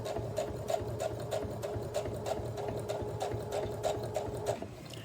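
A sewing machine understitching a collar runs steadily and close, its needle thumping in a fast even rhythm over a low motor whir for about five seconds before easing slightly at the end.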